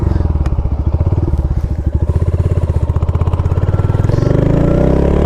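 A Royal Enfield Hunter motorcycle engine pulses steadily and loudly under way, with a thumping single-cylinder beat that builds slightly in pace over the ride and plays alone, with no talk.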